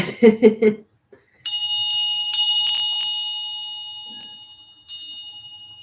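A short burst of speech, then a bell struck several times, its clear ringing tone lingering and slowly fading.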